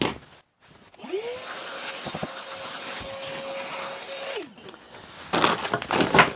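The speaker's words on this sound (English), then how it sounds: "Quick vacuum off." A vacuum cleaner whines up, runs steadily for a few seconds with a constant hum, then winds down, followed by some clattering handling sounds.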